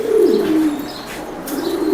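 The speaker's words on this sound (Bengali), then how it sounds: "খুব চমৎকার কবুতর তো ব্রাদার স্টিফেন লাইনের কবুতর ভালো কবুতর এক নম্বর" Racing pigeons of a Stephen bloodline coo inside a loft, with loud, close, low rolling coos repeating steadily, joined by a few faint chirps and no talking.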